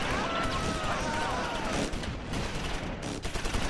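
An anti-tank weapon fires in the World War II strategy game Close Combat IV, a sharp blast followed by rumbling battle noise and scattered gunfire, fairly loud and dense throughout.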